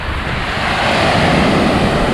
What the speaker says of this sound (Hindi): लो जी, ये है जी समंदर, और ये बीच कह सकते हैं ना इसको